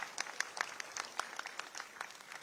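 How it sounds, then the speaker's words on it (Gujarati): Applause from an audience at a government event in Gujarat, thanking the Chief Minister for urban development grants; a faint, distant patter of many hands clapping, sparse sharp claps standing out over a soft continuous wash. "અમે સૌ આપનો તાળીઓ સાથે આભાર વ્યક્ત કરીએ છીએ."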